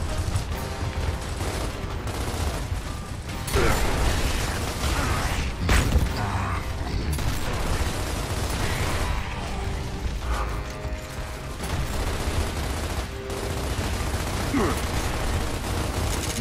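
Gunfire in the video game Gears of War, with rapid bursts and heavy mechanical clatter running continuously under game sounds and voices.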